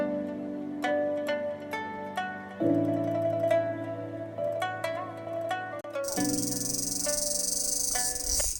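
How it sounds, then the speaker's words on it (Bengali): Crickets calling from the trees of a hill tea garden near a Khasi village make a shrill, continuous buzz that swells up partway through, mixed with steady tonal sounds and no talking. "ঝিঝি পোকা ডাকছে গাছে গাছে"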